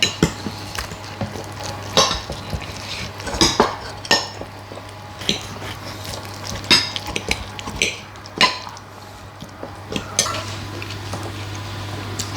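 A knife cuts through a loaf of homemade bread, making repeated scraping and tapping strokes with a few clinks against a board or plate. A low steady hum runs underneath throughout.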